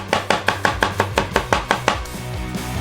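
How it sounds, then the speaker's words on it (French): A knife chops a celery stalk finely on a cutting board, about a dozen crisp, evenly spaced, close knocks that stop after roughly two seconds, leaving a quiet tail with no talk. "Hachez-la déjà très finement."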